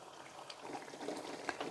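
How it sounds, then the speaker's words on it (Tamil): Mango kulambu, a tangy Tamil curry with green mango pieces, bubbles as it boils in a cooking pot, a faint steady simmer with soft pops and gurgles throughout. "இப்போ கொதிக்கிட்டோம் நல்லா கொதித்து வரட்டும்"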